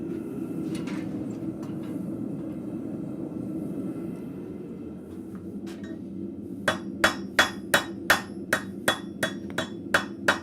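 At a blacksmith shop, a hammer forges a scrap-metal arrowhead socket with about a dozen evenly spaced, ringing strikes. They begin midway after a stretch of low forge rumble and sound loud and close.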